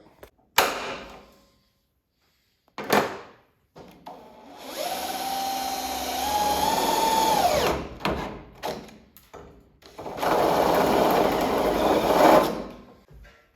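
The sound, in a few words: power drill drilling hole in car hood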